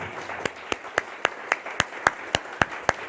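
An audience at a spiritual lecture claps together in a steady rhythm, about eleven sharp, evenly spaced claps at moderate loudness.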